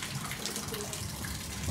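Heavy rain falls outside as a steady, dense wash of water that holds even for nearly two seconds with no voices.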